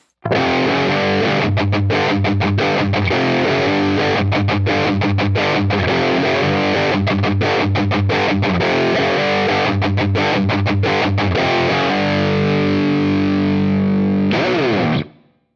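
Loud, continuous distorted electric guitar riff from a Line 6 Helix, heavy chugging chords spread widely across the stereo field, ending with a sustained ringing chord.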